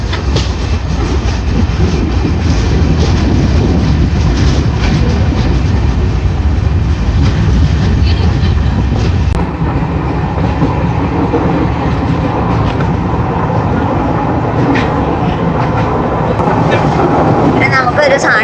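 A train rolls along its rails on a South Star Rail Onam coastal tour, with a loud, continuous rumble, rattle and clickety-clack heard from inside the carriage throughout.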